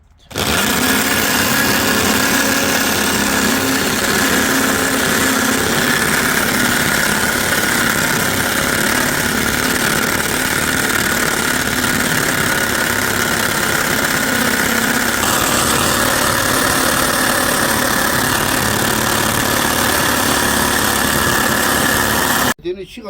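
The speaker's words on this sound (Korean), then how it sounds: "요런 한마 드릴로 가지고 이렇게 해서 저 벽돌 뚫는 걸로" Hammer drill boring through brick with a 14 mm bit, a loud, steady grinding drone with rattling vibration running nonstop for over twenty seconds, slightly shifting in tone midway, with no talk over it.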